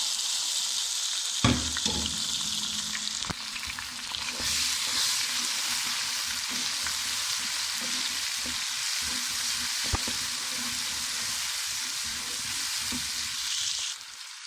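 Steady loud sizzling of garlic, ginger and onion frying golden in a hot pan, with occasional clinks and scrapes of stirring throughout.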